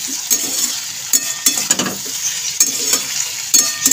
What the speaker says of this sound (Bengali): তো দিয়ে এটাকে আমি আবারও খুব ভালো করে মিক্স করে দেবো।